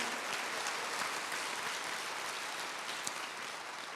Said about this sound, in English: let's give applause for that band that was up here.